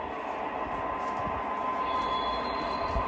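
An O scale model train runs along a home layout, a steady rolling rumble of wheels on track with a faint squeal, close and continuous without speech.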